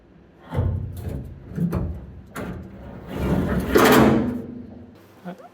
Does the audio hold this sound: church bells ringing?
no